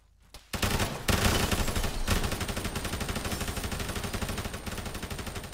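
Rapid automatic gunfire in a shooter video game, a sustained burst of repeated shots starting after a brief quiet moment and continuing loud and dense to the end.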